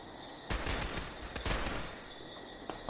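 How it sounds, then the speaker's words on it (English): Gunfire in an audio drama set around a train station, a loud broadband volley of shots in a tight cluster, then a second burst a moment later and one faint shot near the end, with no talking. "There were more gunshots, and the sound of a woman yelling."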